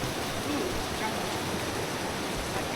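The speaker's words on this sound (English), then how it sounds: "Oh, mini waterfall." Small waterfall on a river during rafting in Bali, a continuous broadband rush of falling and churning water that fills the whole stretch evenly, loud and close with no pauses.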